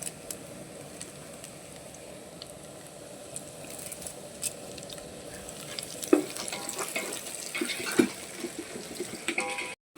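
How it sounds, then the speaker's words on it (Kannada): Curry leaves hit hot oil in a pan for fish biryani, giving a steady crackling sizzle that swells louder with sharp pops and spits toward the end, close and continuous. "ಈಗ ಸ್ವಲ್ಪ ಕರಿಬೇವು ಹಾಕೊಳ್ಳೋಣ."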